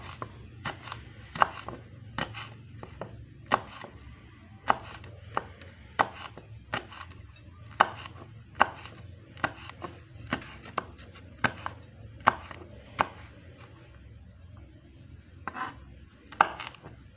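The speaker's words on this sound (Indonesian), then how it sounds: "Cabai merahnya kita iris serong-serong tipis gini ya." A knife thinly slicing red chili peppers on a cutting board makes sharp, close taps in an uneven but steady rhythm, about twenty cuts, over a quiet low hum.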